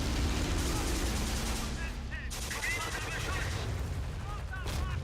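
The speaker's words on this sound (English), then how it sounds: "that's basically a 6-pounder gun, by the way" Gunfire from a 6-pounder gun in the Blitzkrieg strategy game Afrika 43 mod battle, heavy noisy blasts and rumbling combat sounds filling the scene continuously, with a few brief spikes of louder shots.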